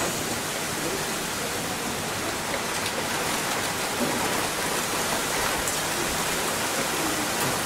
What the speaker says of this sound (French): Est-ce que vous entendez la pluie?